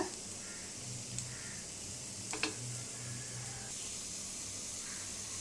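Sweet potato paniyaram fry on low flame in a pan, giving a steady, soft, even sizzle with faint crackles and a couple of light taps, all fairly quiet and continuous.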